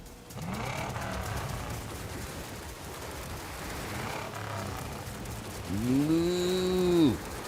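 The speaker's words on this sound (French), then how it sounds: "Lorsque tu entends la vache, dis « vache »." A cartoon cow lets out a loud, drawn-out moo near the end, with sweeping pitch, heard in an animated rescue adventure over a steady background bed of music and effects.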